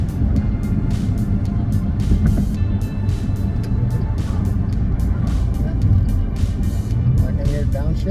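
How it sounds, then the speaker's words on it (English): A Maserati Ghibli SQ4 in sport mode drives with a steady, loud low engine drone and road rumble from inside the cabin, with brief shifts in engine note. A person talks over it. "I can hear downshift."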